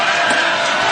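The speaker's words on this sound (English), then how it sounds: "Crowd extending that noise." Dense, loud crowd noise fills a high school basketball gym during a tight late-game free throw, a steady roar of cheering and whooping with no break across the short stretch.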